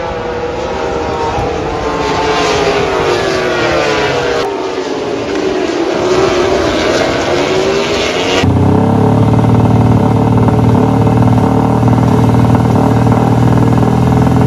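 Loud Moto3 racing motorcycle engines roar past continuously on the Mandalika circuit in Indonesia, rising and falling as bikes speed by, then a sustained lower drone takes over for the final stretch.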